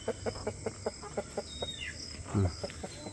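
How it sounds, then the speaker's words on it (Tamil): Farmyard chickens cluck in a steady run of short, evenly spaced calls, moderately close, with a louder burst of fowl noise near the end over a low background hum. "கோழி இங்கே பாருங்க, அங்கே பூராமே கோழி தான்."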